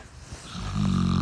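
A pig snores, a low rumbling rattle that builds and swells near the end of the short stretch, close and fairly loud.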